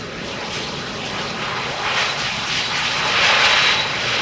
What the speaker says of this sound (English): CRJ 900 from SAS arriving from Copenhagen